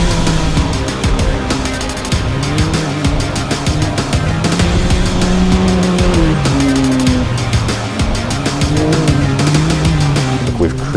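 UTV race cars at the UTV World Championships roar down the long straightaway. The engine drone is loud and steady and rises and falls in pitch with gear changes. Faint voices sit under the din.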